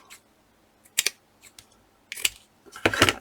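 Scissors snip through material during a craft session, a few sharp separate cuts followed by a louder burst of rapid snipping near the end, close and clear with no talk.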